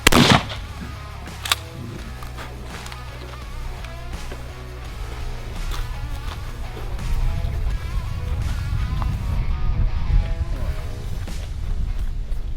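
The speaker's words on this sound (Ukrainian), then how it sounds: "Постріл!" A single loud 12-gauge shotgun blast firing birdshot cracks at the start, then fades into rustling outdoor noise and handling sounds.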